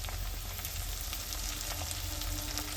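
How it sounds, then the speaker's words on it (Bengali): Chopped tomato and onion, salted, fry in a pan with a steady, dense sizzle that holds close and even throughout, with faint crackles and no voices. "টমেটোটাও পেঁয়াজের সঙ্গে খুব ভালোভাবে কিন্তু ভাজা হয়ে গেছে"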